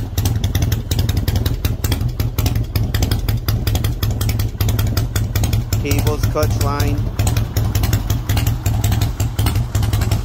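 A Custom Softail Springer motorcycle with newly installed handlebars idles steadily and loudly nearby, a constant low engine rumble with light clatter, while someone talks over it.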